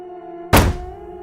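A single loud, hard bang on a table, sharp and heavy with a brief resonant thud that fades quickly over a faint background hum.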